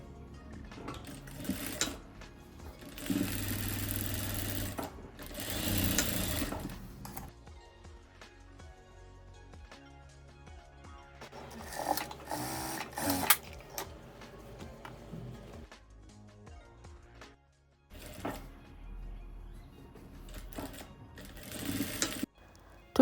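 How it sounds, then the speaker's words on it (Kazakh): A sewing machine stitches lining and outer fabric together for a Quran book cover. Its rapid mechanical whir comes in several bursts of a few seconds each, separated by quieter pauses, close up and clear. "Астар мен беткі матаны бірге тігеміз."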